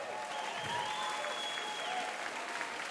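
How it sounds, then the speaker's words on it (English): A tournament audience at the Nintendo European Championships 2023 applauds and cheers for the top 12 racers, with steady dense clapping and crowd noise filling the hall throughout. "please give a massive cheer and a round of applause for your first top 12"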